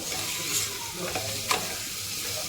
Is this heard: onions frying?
yes